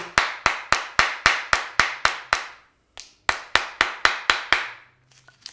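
Sharp wooden whacks tap a part of a Dexter Yanagi kitchen knife into place, landing in two quick evenly spaced bursts of about eight strikes each, close and crisp with a brief pause between.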